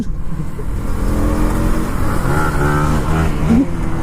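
A KTM Duke 250 Gen 3 and a Yamaha R15 V4 rev loudly at close range before a group race, their engines droning steadily and rising in pitch toward the end.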